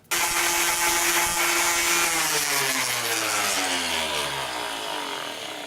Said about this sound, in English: I don't think the sander is very loud, so it's going to make pretty short work of this.